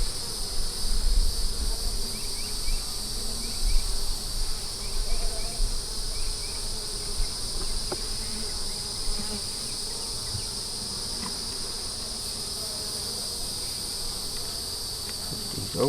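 A dense, steady hum of honeybees buzzing close by around an open hive, continuous throughout, with faint rustling and handling noises of frames underneath.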